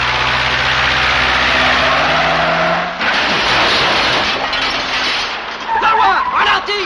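A car engine over-revs with a high, strained roar and mechanical noise, a sudden shift midway and sharp squeals near the end, in a James Bond film, Live and Let Die.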